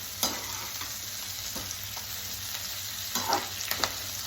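Onions sauté in a pan for a pasta dish, a steady close sizzle broken by several sharp scrapes and clacks of a spatula stirring, with no speech.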